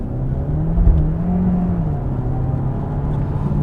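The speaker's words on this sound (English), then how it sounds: "Okay, the engine definitely kicked in then." Audi Q3 45 TFSIe plug-in hybrid's petrol engine cutting in while driving on the road, a steady low engine drone and whir with a brief thump near the start, continuous throughout.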